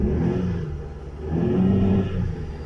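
Dodge Avenger 2.4 engine revving with a camshaft sensor fault, climbing from idle into a steady mid-pitched rev that holds and falls back, refusing to pass about 3000 rpm; loud and close, no talking.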